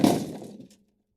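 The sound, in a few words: lunchbox dropped on floor, contents clattering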